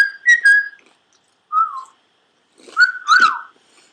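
A high, clear whistle in short tonal bursts with gaps of silence between them, close and fairly loud, coming from a pet being taught to whistle.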